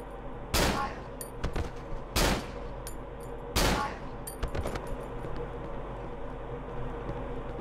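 Three sharp, loud gunshots ring out in the horror video game Cry of Fear, spaced about a second and a half apart, each followed by clattering mechanical clicks and a low droning game ambience.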